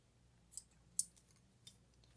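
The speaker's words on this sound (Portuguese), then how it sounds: "Agora eu vou cortar o fio, deixando um fio para costura." Scissors snipping yarn while crocheting a small amigurumi doll, a couple of quiet crisp snips and light clicks close by in a hushed room.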